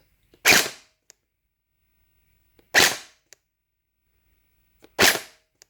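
Three sharp, separate shots from an HE ACR gel blaster on semi-auto, each a loud close crack spaced roughly two seconds apart, followed by faint mechanical clicks, with silence between.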